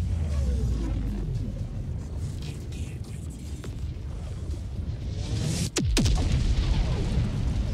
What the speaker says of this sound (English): Surely they can't hear me running over the sound of that explosion.